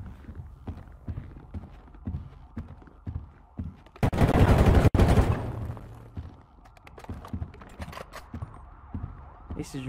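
Gunfire in GTA Online comes as a dense, close burst of rapid shots lasting about a second. It sits among repeated clattering game sounds and a man's speech.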